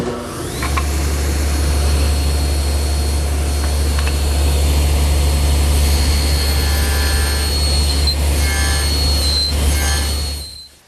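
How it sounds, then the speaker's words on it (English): A table saw nibbles away material to form a haunched tenon on a wall-clock part in a woodworking shop. A loud, steady, whining drone holds for about ten seconds, then fades at the end. "that material is best removed using the table saw"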